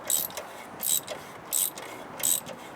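A ratchet turns a nut on the rear brake of a rusty 1952 Harley-Davidson FL panhead, giving four evenly spaced bursts of close, crisp clicking with short pauses between them.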